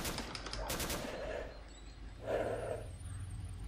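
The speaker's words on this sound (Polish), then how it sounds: "Nie wiem, co to są za strzały." Gunfire in the video game S.T.A.L.K.E.R.: Call of Pripyat with the Misery mod comes as a quick burst of several sharp shots early on, followed by quieter distant reports and faint rumbling ambience.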